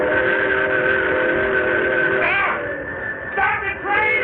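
A train sound effect in a 1962 radio drama: a train rumbles steadily as a loud steam whistle blows in long sustained tones, then sounds again in shorter bursts near the end.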